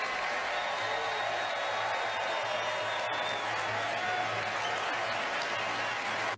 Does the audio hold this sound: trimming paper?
no